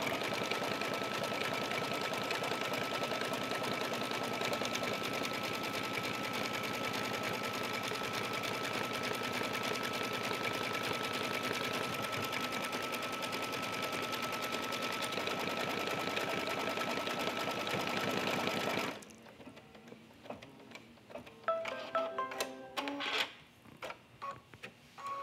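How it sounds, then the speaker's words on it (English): An embroidery sewing machine stitches the outline of a cork bag held in a hoop, a steady, loud mechanical hum running for about nineteen seconds before stopping and giving way to quieter handling noises. "I'm gonna put the hoop back on the machine, and I'm ready to stitch the last step."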